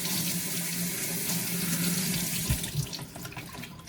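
Cold tap water runs steadily into a sink while raw chicken is washed for Hainanese chicken, a close, continuous hiss and splash with a few sharper splashes near the end, no talking.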